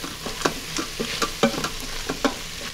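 Vegetables and flour being stirred in an Instant Pot for chicken stew, with a steady scrape and soft sizzle and spoon strokes landing in an irregular rhythm, close and fairly quiet.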